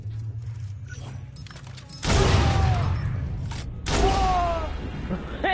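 A bomb goes off in the video game Watch Dogs 2, a sudden loud blast followed by a second burst a couple of seconds later, each with a long noisy rumbling tail over quieter game sounds.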